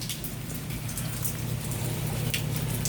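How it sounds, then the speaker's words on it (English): Rain falls steadily outdoors, a dense even patter of drops with scattered sharper splashes over a low hum, continuous and moderately loud, with no talk. "You can stick your hand out and feel the rain."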